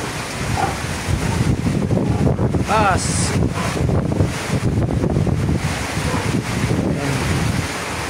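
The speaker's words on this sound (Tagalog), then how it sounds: "Lakas na ng hangin." A strong typhoon in Camarines Sur, Philippines, brings heavy wind that roars constantly against the microphone, with rain noise throughout and a person talking underneath the gusts.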